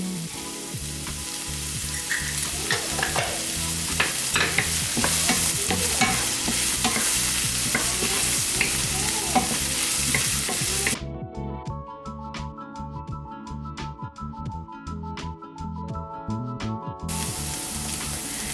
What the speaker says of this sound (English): I'm adding half a teaspoon of minced garlic in.